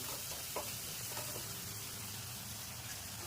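Spices for puri bhaji sautéed in a pan, a soft steady sizzle with a few light stirring scrapes near the start, faint but close and uninterrupted.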